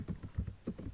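A computer keyboard being typed on in a quick run of soft, close keystrokes with an uneven rhythm, no voices.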